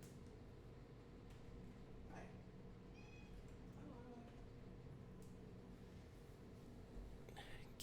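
A cat meows a few times to be let in, fairly quiet against a steady indoor background hum, with a faint voice at moments.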